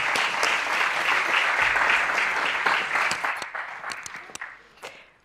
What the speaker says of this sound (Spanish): Así que comenzamos dándole un fuerte aplauso.